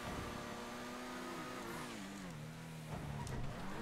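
A half car with only two wheels revs its engine in the GTA video game. The tone rises and falls in pitch as the throttle changes, and the engine sounds close and loud throughout.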